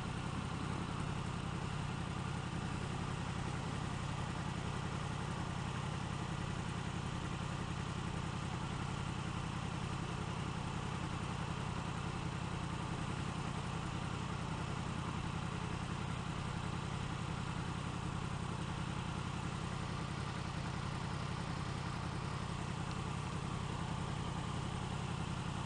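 A 2016 Yamaha R1 idles with its hot engine's cooling fan blowing, giving a continuous, even broadband whoosh and hum that holds steady for the full length, with no talk.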